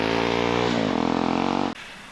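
A KTM 390 Adventure motorcycle with an aftermarket exhaust revs with a rough, throaty, brappy exhaust note, the pitch shifting as the throttle changes, then cutting off abruptly.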